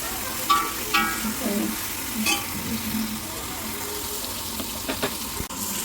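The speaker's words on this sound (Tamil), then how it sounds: "பூண்டை வந்து ஒரு 2 நிமிஷத்துக்கு நல்லா வளர்க்கணும்" Garlic sautéing in a pan for mutton biryani, with a continuous sizzle and several scraping stirs and clinks of a utensil against the pan, close and fairly loud with no talk.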